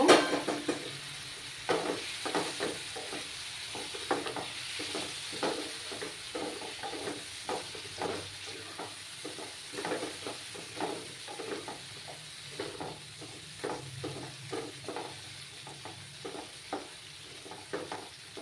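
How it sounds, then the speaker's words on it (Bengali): Spice masala sizzles in a pan on low heat after a little hot water is added, with steady rhythmic scraping strokes of a spoon through the hissing paste, close and fairly quiet. "সামান্য একটু গরম জল দিয়ে কষিয়ে নেব।"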